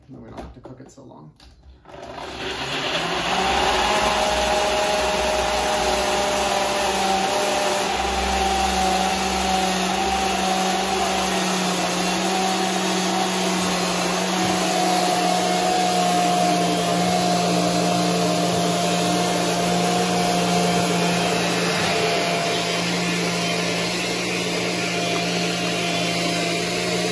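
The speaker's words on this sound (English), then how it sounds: "the blender is gonna grind up the ginger and the cinnamon really well" A blender runs steadily and loudly for nearly the whole stretch, grinding ginger and cinnamon for masala chai, with a constant motor whine after a brief start.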